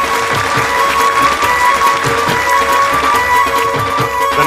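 A crowd applauds to welcome RCM Business and UES president Mukesh Kothari, with loud, continuous clapping mixed over a steady rhythmic backdrop of sustained tones and regular low thumps.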